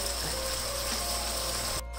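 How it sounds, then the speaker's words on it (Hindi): Mutton and round gourd (tinda) fry in a pan as water is splashed onto them, making a continuous close hiss and sizzle that cuts off abruptly near the end. "साथ में इसके पानी का छींटा देती जा रही हूँ।"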